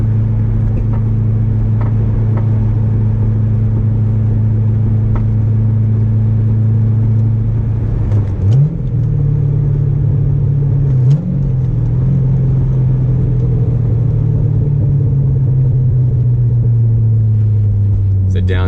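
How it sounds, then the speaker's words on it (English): A C6 Corvette fitted with an SLP exhaust drones in a steady low rumble while cruising, then its pitch jumps twice in quick succession as it downshifts to fourth and then third, settling into a deeper, gradually falling note. "It's a downshift to fourth and third there"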